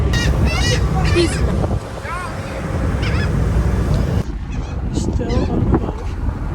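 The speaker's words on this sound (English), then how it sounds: "I'm feeding the birdies on this boat" Birds honking near a boat while being fed, loud repeated calls over steady wind and water noise and engine rumble, with a person talking throughout.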